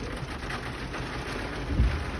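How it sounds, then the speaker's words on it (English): Heavy rain pours down outdoors in a dense, steady hiss, with a low rumble rising briefly near the end, and no voices. "Look at the rain."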